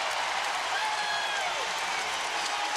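A basketball arena crowd roars and applauds after a turnover, a loud continuous wash of cheering and clapping filling the space.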